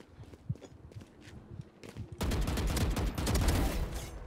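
Video game gunfire: a few scattered thuds and footstep-like taps give way midway to a loud, dense, sustained burst of rapid shots.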